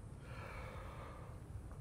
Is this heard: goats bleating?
no